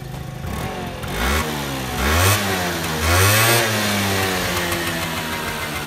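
A small two-stroke moped bought for 100 kroner runs loud and close, its engine note climbing and falling through several revs before it settles into a steady idle.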